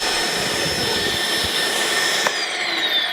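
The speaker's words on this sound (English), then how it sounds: "Miss Wizard wants to make sure we're using the vacuum, because MDF is nasty for your lungs" A shop vacuum runs steadily outdoors while MDF is being cut, a loud continuous whine and rush filling the whole stretch with a brief click near the end.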